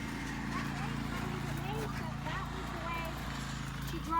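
A horse canters downhill, its hoofbeats a soft, rhythmic clip-clop running under steady talking throughout.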